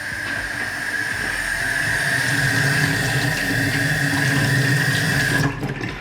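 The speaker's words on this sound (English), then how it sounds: "Water heater is working." A water heater running in a brand new home with water flowing into a tank or fixture, a loud, steady rushing hiss with a constant hum underneath that cuts off abruptly just before the end, no voices.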